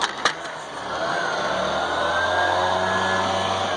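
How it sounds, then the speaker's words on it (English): A blower runs steadily nearby throughout a rural RV restoration job, a continuous mid-level whir with a faint hum, following a couple of brief knocks at the start. "I might have to make this video again because you got the dang blower"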